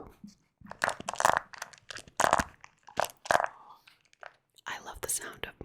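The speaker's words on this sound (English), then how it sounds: "I love the sound of moving dice." Dice shifting and rattling inside a trading card game deck box, heard as close, crisp clicks and crunchy clatters in short bursts, with soft whispered talk in between.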